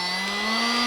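A Parkside 20V Performance cordless heat gun (PPHLGA 20 Li A1) runs at high airflow, a loud, steady, close motor whine with a fan hiss, its pitch creeping slightly upward.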